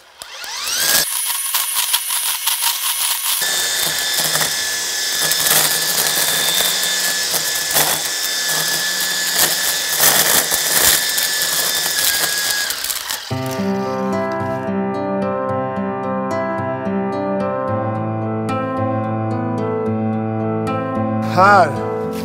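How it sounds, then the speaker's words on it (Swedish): A brush trimmer cutting stinging nettles, a loud continuous motor whine that shifts pitch midway as the cutting changes, with someone speaking over it. "En trimmer. Nu vet jag att det är faktiskt bara brännässlor."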